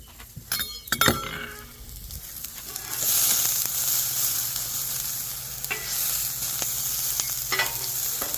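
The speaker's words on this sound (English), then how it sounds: "I'm going to throw on some udon noodles. Alright, they're cooking fast. This thing was so hot." Udon noodles and chicken sizzling loudly on a very hot griddle, opening with clinks and scraping of a utensil, then a sustained hissing sizzle with occasional taps and a low steady hum underneath.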